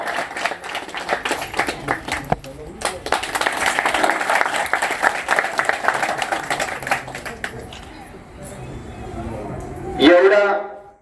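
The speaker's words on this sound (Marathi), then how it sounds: "सर्वांनी टाळ्या वाजवल्या. सर्वांनी टाळ्या वाजवायच्या मित्रांनो." Villagers applauding at a gathering in Shirsoli during a palanquin procession event, a scattered burst of many hands clapping that swells and then fades, followed by a brief louder knock at the end.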